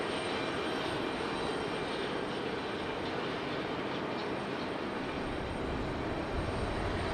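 A jet airliner at Raleigh-Durham airport gives off a steady, distant roar of engine noise, faint and unbroken throughout, with no talking.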